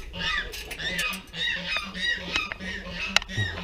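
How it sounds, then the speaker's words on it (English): Geese honking loudly among other poultry in a backyard pen, repeated calls in bursts at close range, with quail also kept nearby. "Geese are being nice and loud."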